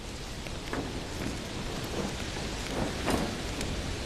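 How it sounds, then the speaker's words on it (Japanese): Steady rain pours onto surfaces while low thunder rumbles and rolls in the distance as a storm approaches, with no voices. "마치 무언가를 예고하듯 폭풍우가 몰려오기 시작합니다"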